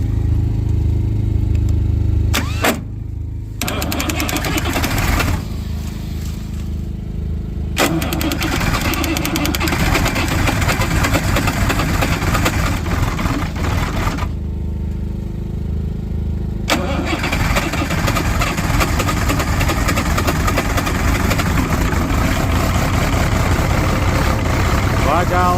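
An old Gleaner M2 combine engine with an aging, weak battery cranks in several loud, close bursts separated by short pauses, then catches and settles into a rough, steady idle, with voices faintly present.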